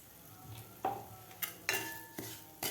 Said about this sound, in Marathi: आपल्याला हे मिक्सरमधून काढलेला तांदूळ व्यवस्थित भाजून घ्यायचा आहे तुपामध्ये